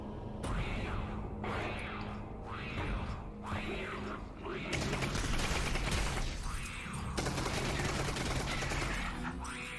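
Sustained video game gunfire shown at the PC Gaming Show 2022, with loud, dense bursts of rapid shots and mechanical clatter going on and off for about ten seconds over a constant noisy backdrop.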